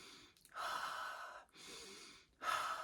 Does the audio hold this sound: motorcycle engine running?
no